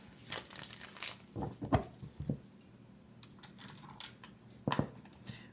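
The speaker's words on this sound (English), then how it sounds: "Let me give these a shuffle" Quick papery riffling and soft card flicks of a tarot deck, a few bursts of shuffling with brief pauses between, close by and fairly quiet.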